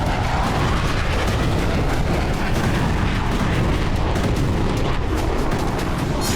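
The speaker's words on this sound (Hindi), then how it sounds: "शहर के पास जबरदस्त विस्फोट की ये तस्वीरें भी हामा शहर की हैं" Continuous heavy rumbling blasts and booms from a strike on a weapons depot near Hama, Syria, loud and dense throughout, like a large explosion with sustained roaring aftermath.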